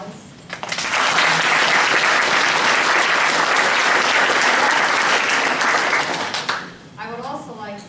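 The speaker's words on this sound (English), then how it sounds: "I want to give Jenny a round of applause" Loud audience applause bursts in, sustains steadily for several seconds of dense clapping, then fades as a voice begins speaking.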